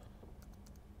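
Fingers tapping a computer keyboard, a few quick, faint keystrokes spaced irregularly over a low steady background hum, with no one speaking.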